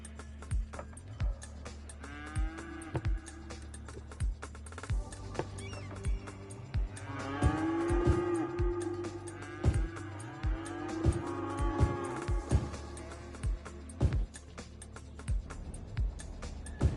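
Cattle on a farm in the city-building game Cities: Skylines, with several long, low moos rising and falling over a steady hum and frequent short clicks, clustered mostly in the middle and later part of the scene.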